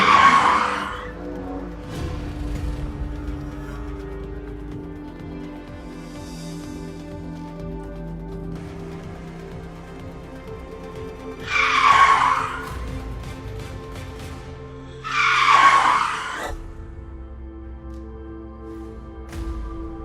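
A car skids while swerving amid a tense family argument on the road, with three short, loud screeching bursts over a steady hum and background music.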